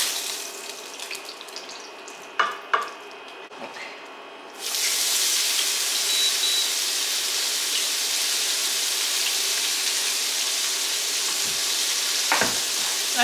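Two onions hitting hot oil in a pan for oven-baked pork chops, a sudden loud hiss that settles into a steady, bright sizzle, preceded by a few clinks and knocks.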